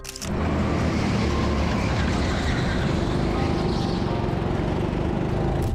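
Racing go-karts roar around a track with a loud, continuous buzzing engine drone that holds steady throughout at close range.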